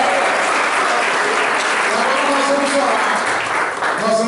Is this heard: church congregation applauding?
yes